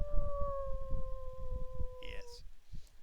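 Wolves howl in two long steady overlapping tones, faint and distant-sounding, under a person talking, before a brief higher wail near the end.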